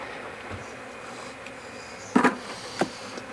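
Honey bees in an open hive during a January brood inspection, a soft, steady low buzz heard close by, with a couple of brief louder bursts as bees fly near.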